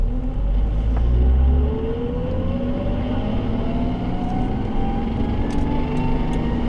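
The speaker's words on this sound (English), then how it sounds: "the twin plate combined with this stock exhaust sounds like a truck" A stock-exhaust Toyota JZX100 turbo with a twin-plate clutch drones along at steady cruise, its deep, truck-like engine rumble rising slowly in pitch as it pulls, loud and continuous with no talking.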